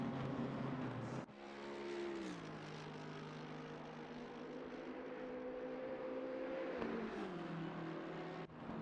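Race cars in Assetto Corsa Competizione at Mount Panorama, two dueling downhill and along the straight, engines droning loud and steady with rising and falling pitch through gear changes and a sharp upshift break near the start.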